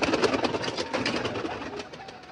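Pigeons coo in soft, repeated throaty calls close by, with a faint rustling background.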